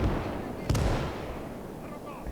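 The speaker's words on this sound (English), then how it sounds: "Bomb almost hit my artillery." An artillery bomb explodes in the WWII strategy game Call to Arms: Gates of Hell during a Finland skirmish, a sharp blast over a dense roar of battle that slowly fades.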